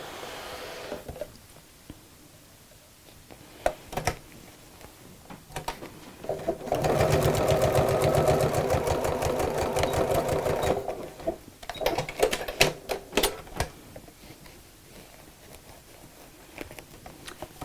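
A sewing machine stitches a vinyl pocket on a car seat organiser in short rapid bursts, with one long steady run in the middle and quieter handling clicks between runs.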